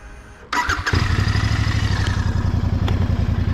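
A Royal Enfield Bear 650 motorcycle starts up after a brief quiet moment, its mid-pitched twin-cylinder engine catching and settling into a steady, loud, evenly pulsing idle close by.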